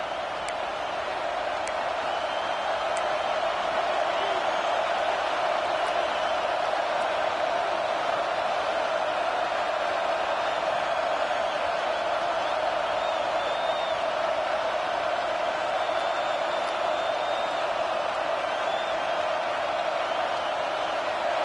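Stadium crowd in the College Football 25 video game during a fourth-quarter drive: a steady, dense roar holds evenly throughout, with faint scattered shouts in the mix.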